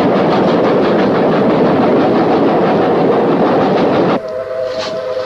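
A train thunders past in a Persian film scene, a loud continuous rushing roar with rhythmic rail clatter that cuts off abruptly near the end, leaving a faint tonal hum.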